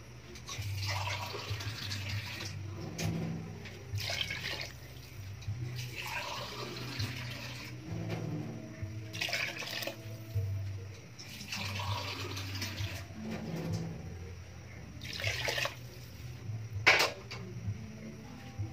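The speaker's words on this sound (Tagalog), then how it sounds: "So dagdagan natin ng tubig to para dire-diretso na" Water splashes and gurgles steadily as it is poured into a cooking pot of pork for boiling, a continuous running flow with a low hum in the background.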